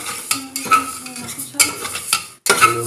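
Mung dal cooking in a pan while being stirred, with repeated scraping and clinking strokes of a utensil against the pot, close and fairly loud, separated by short pauses.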